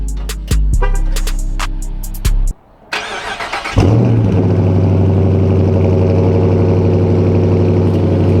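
Dodge Charger RT engine cold start: a few sharp clicks, a brief cranking whir, then a loud flare into a deep steady rumbling idle, close and alone.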